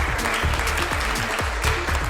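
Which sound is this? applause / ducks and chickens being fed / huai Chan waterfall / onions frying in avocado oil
applause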